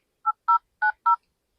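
Four short dialing tones pressed in quick succession on a phone keypad, clear and close, with silence between them and no talking.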